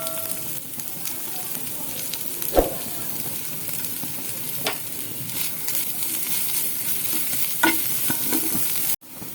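Spring onion whites and dried red chillies stir-fry in a pan for restaurant-style dragon chicken, a continuous close sizzle with a few scraping stirs and light crackles, ending in an abrupt cut.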